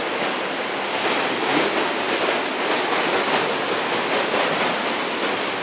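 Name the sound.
rushing water in the Aare gorge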